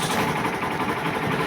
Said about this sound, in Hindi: अभी मैंने गाड़ी स्टार्ट कर दिया और इधर मीटर में सभी लाइट आ रहा है और इंजन का साउंड आप लोग सुन सकता है